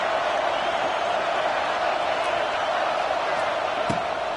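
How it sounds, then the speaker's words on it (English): A stadium crowd in a Madden football video game roars on third down, a dense, steady wall of noise with a faint thump near the end. "Decibels rising as the crowd gets behind this defense on third down"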